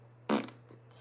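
A single short, loud fart bursts out, followed by a softer trailing sputter, over a quiet room with a constant low electrical hum.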